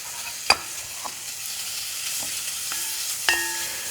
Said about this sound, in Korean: 이렇게 해서 이제 살짝 이제 온도가 올라오면은 이제 소고기 썰은 거.